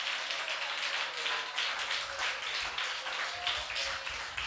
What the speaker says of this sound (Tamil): கைத்தட்டி தேவனை மகிமைப்படுத்துங்க.